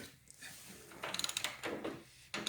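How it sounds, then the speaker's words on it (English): A ratchet works a pulley bolt on a Harley-Davidson Softail motorcycle, giving close, crisp rapid clicks in short bursts with brief pauses between strokes, fairly quiet overall and without speech. "And then get your ratchet on there."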